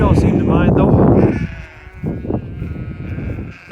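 Sheep bleat loudly and close by on a windy farm at night, several overlapping calls in the first second and a half, then quieter bleats over steady wind noise.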